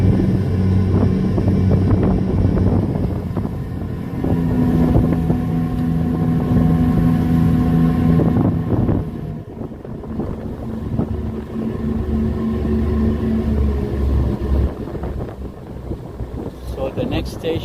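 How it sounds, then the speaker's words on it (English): Strong wind buffets the microphone on a ferry crossing at night toward the World Trade Center, with a low rumbling engine drone underneath and loud gusty roaring throughout. "It's windy."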